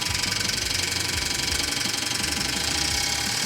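An engine runs on a test stand in a Holley Performance R&D area while injectors or a regulator are tested, a loud, steady, rapidly pulsing mechanical roar close by.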